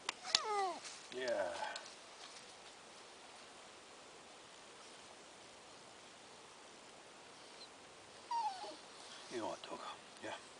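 A dog whimpers and yips in short, high, wavering bursts at the start and again near the end, with a quiet outdoor woodland hush filling the long gap between.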